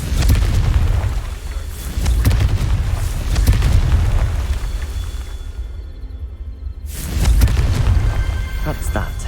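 Explosive Confringo spell blasts from the Hogwarts Legacy video game sound as heavy, rumbling booms across the clip, easing into a quieter tail before another loud burst near the end, with a voice partly mixed in.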